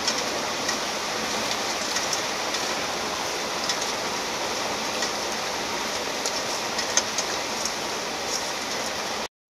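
Heavy rain pours steadily in a dense, unbroken hiss with occasional louder drops, no voices, before cutting off abruptly at the end.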